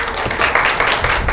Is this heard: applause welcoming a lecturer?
yes